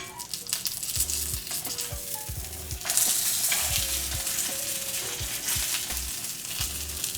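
A pork chop sizzles steadily in a hot pan over medium-low heat, with occasional clatters and scrapes as it is flipped, close and continuous without speech.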